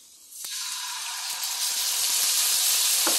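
Kingfish (tanigue) pan-frying in a little oil gives a soft sizzle that swells after a faint start and grows steadily louder, with a few light taps.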